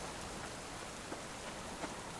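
Rain pours continuously in the survival game Subsistence, an unbroken wash of patter at moderate volume with a couple of slightly sharper drops and no talking.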